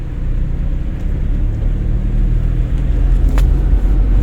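Car engine revving steadily under a learner driver's foot on the accelerator during a driving lesson, a loud low rumble held throughout with no talk.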